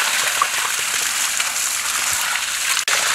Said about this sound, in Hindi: तो अब हम इसे पानी से धोएंगे।